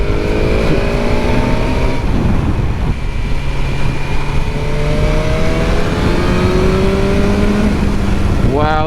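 A 2022 BMW S1000R motorcycle in road mode pulls hard, its engine note climbing steadily through the revs, then dropping briefly and climbing again at the end, loud and close with wind rush throughout.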